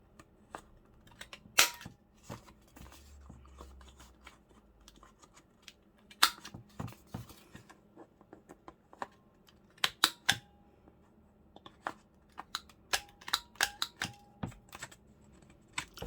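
Sharp snips and crisp clicks of scissors cutting paper come in irregular bursts close by, with quiet pauses between cuts.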